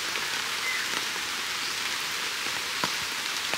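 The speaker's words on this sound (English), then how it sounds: "It's raining a bit, but not too bad." Light rain during a hike on Mt Hibok-Hibok, a steady soft hiss of drops with occasional faint patters, no voices.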